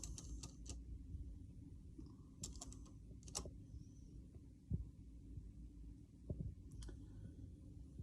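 Quiet typing on a computer keyboard, a few scattered soft key clicks in short bursts over a low room hum.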